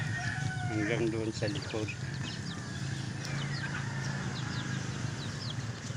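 Chickens at a backyard mini farm behind a house, clucking and bursts of crowing close by over a steady outdoor hum, with a person talking briefly.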